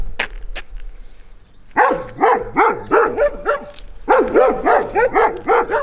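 A black dog barks fiercely and repeatedly at close range, in rhythmic bursts of loud barks separated by short pauses.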